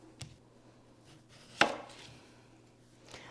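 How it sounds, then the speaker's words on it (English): A knife slices through russet potatoes, cutting them into rounds about half an inch thick, giving a few sparse, crisp chops on a cutting board in a quiet kitchen. "we're gonna take 4 russet potatoes and we're gonna slice them into rounds about like a 1/2 inch thick"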